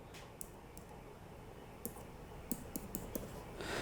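Computer mouse clicks sound while an online registration form is filled in: a handful of sharp, quiet, irregular clicks spaced over a few seconds against a faint steady room hiss.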